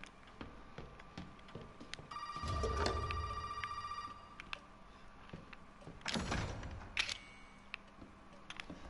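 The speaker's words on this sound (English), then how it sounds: "Can I answer the phone later, please?" A telephone rings inside the horror game Resident Evil 7, giving a tonal ring that sits among mechanical clunks and a whooshing surge, moderately loud with no talking.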